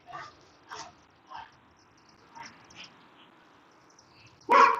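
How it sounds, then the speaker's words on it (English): Several dogs bark in short, scattered bursts at a distance, followed by one louder, closer bark at the end, with no one talking. "Looks like I've got one viewer and some noisy ass dogs."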